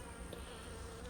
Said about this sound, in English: immediately there is a bunch of bees right there on the floor